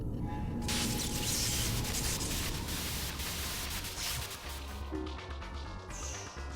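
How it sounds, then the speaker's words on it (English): Dense white-noise static from the .hack//G.U. Last Recode video game, signalling the start of a battle, hisses loudly and steadily, with a sharp crash near the beginning and a softer thump toward the end. "White noise on the screen will signal the start of battle."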